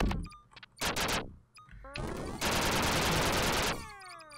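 Rapid automatic gunfire from a weapon in the video game Duck Game, loud and close, in short bursts and then a sustained volley of shots with whirring mechanical tones, without talk.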